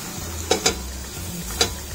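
Onion dry-roasting in a pan without oil over high heat, a low quiet sizzle broken by three short scraping clicks of a spatula stirring against the pan.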